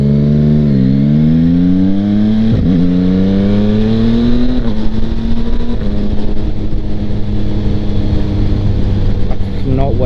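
A 2025 Yamaha MT-09 motorcycle fitted with a Kelpi Flanker exhaust rides close up, its engine droning loudly and rising in pitch through the gears, with steady wind rush and no talk.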